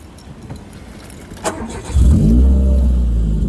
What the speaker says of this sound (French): Juste tu la démarres et comme ça, on va entendre le petit son, là.